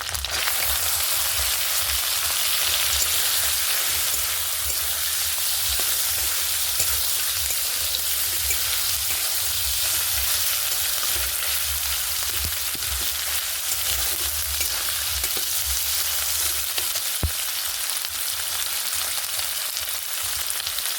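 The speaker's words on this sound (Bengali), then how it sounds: "এবার শুকনো মাছটা একটু ভেজে নেব।" Dried fish frying in oil gives a loud, dense and unbroken sizzle that holds steady from start to finish, with a single sharp tap near the end.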